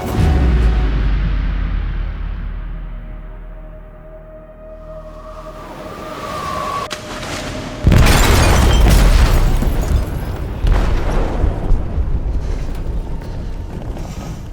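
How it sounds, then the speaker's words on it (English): Explosive detonation in a ship's hold in the video game Detroit: Become Human, a sudden deep boom that swells into a long, loud, rumbling roar with crashing debris and churning noise. "They detonated an explosive in the hold."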